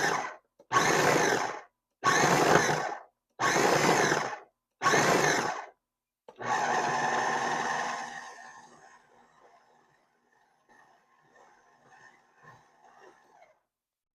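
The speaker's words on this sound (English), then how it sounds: "go ahead and take my dough out of my food processor" A food processor mixes pie crust dough in five short, loud bursts of whirring motor noise, then runs once more for about two seconds before spinning down and falling quiet, with faint rattling afterward.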